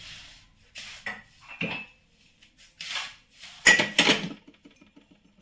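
Dishes, pots and cutlery clatter and clink in irregular bursts while a home kitchen is tidied, with short quiet gaps between the close, sharp knocks.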